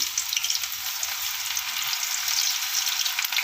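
Ragi pakoda batter dropped into hot oil, frying with a constant, bright crackling sizzle and small bubbling pops, close and steady with no voices.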